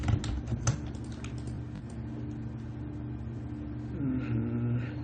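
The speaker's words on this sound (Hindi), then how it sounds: "थोड़ा कीबोर्ड से मेरे बटन मिसटाइप हो जाते हैं" Computer keyboard typing during a Maya 2020 software tutorial, a run of quick key clicks over a steady low hum, with louder taps near the start and a brief rise in background tone toward the end.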